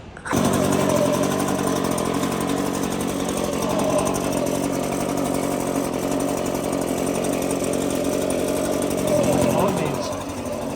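Leaf blower held at idle, clearing a few bits of debris off freshly laid landscaping mulch: a loud, steady motor roar that starts abruptly, holds constant for about ten seconds and eases slightly at the end, close by, with no talking.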